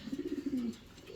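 Cooing from a pair of fancy running pigeons, a soft repeated series of low throaty coos close by, then a short quiet tail with no talk.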